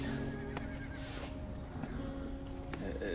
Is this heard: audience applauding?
no